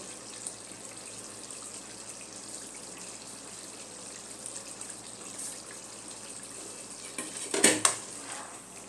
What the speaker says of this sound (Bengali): ভালো মতো মিশিয়ে নেব।